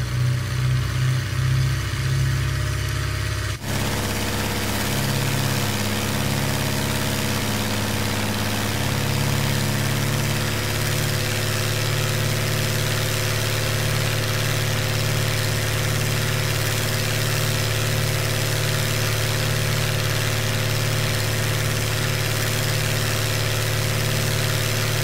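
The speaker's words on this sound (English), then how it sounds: "Run the engine up just a little bit." A Nord 3400 aircraft engine in Microsoft Flight Simulator runs steadily at a loud, constant drone after a brief opening section, with a deep low hum and a mid-range throb holding evenly throughout.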